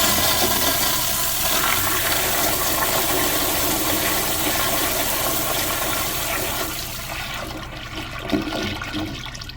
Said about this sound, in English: the flush swirl pretty much covers everywhere of the bowl